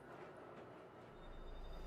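A subway train pulls into the station in a horror radio drama, its low rumble steady and close, then swelling louder toward the end with a faint thin tone above it. No one speaks.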